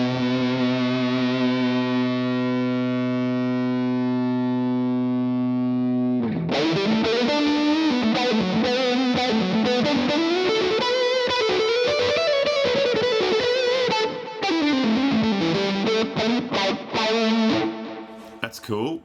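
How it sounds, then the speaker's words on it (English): Electric guitar played through a fuzz effect in Guitar Rig 6 software: a sustained chord rings out, then a run of loud, distorted, buzzing melodic notes and bends fills the rest, alone without talk. "Now let's do that with the fuzz."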